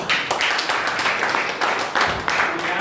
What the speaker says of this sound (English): So clapping for me.